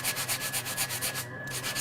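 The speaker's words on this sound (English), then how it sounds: "when you get your sanding block and then you then sand" A sanding block rubs back and forth over craft paper in quick, even strokes, about a dozen rhythmic scrapes close up with a brief pause near the end.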